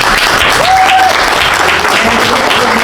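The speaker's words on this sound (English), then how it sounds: "Round of applause." Loud audience applause after a vice presidential debate, a thick continuous wash of clapping close by and steady throughout, with a faint tone sounding briefly beneath it.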